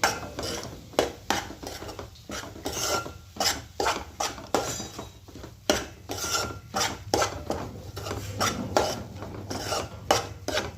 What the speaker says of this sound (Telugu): ఉగ్రాని వేసుకున్న ఫ్రెండ్స్ కలుపుకోవాలి ఫ్రెండ్స్. మంచిగా కలుపుకోవాలి ఫ్రెండ్స్.